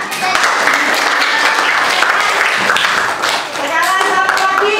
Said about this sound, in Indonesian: Tepuk tangan untuk Mbak Titan